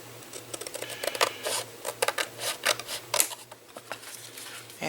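Scissors snipping through card stock while trimming pieces for a double diamond fold card, a run of short crisp cuts close by, with faint handling noise and a low steady hum underneath.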